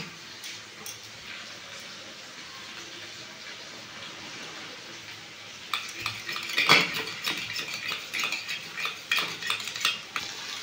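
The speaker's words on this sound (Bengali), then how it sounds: "দইটা আমি ভালো করে ফাটিয়ে নিয়েছি, আমি দিয়ে দেবো।" Yogurt beaten with a spoon in a bowl while cooking a Bengali rice-and-pointed-gourd dish: quiet at first, then a run of close, quick clinking and scraping strokes of metal on the bowl.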